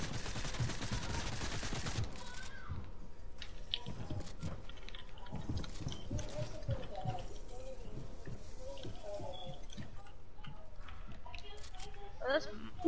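Rapid automatic gunfire in Fortnite rattles out in a dense burst at the start, then gives way to scattered shots and game effects beneath ongoing voice chat among players.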